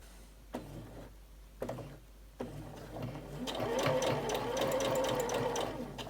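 Sewing machine stitching a fabric catch all caddy, with a few faint clicks first, then the motor running in a steady, close, rhythmic whir; a voice speaks over it.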